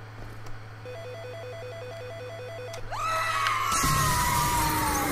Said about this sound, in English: That's not even a real phone noise.